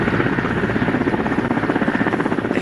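A helicopter hovers over a building roof during a commando hostage-rescue demonstration, its rotor throbbing in a loud, steady rapid beat that fills the scene.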